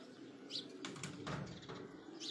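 A racing pigeon takes flight from a rooftop in Mianwali, its wings flapping in a few soft, faint bursts against a quiet outdoor background.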